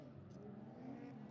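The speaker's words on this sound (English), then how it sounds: "It is so loud here because we are at DC3. There is just nonstop drifting." Cars drift nonstop at a DC3 drift event, making a steady, muffled engine drone and tire roar at a distance, low and continuous throughout.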